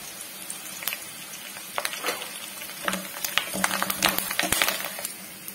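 Curry leaves dropped into hot oil with browning shallots for a Kerala-style potato curry: close, busy crackling and spitting that grows denser and louder, with sharp pops over a steady hiss and no talking.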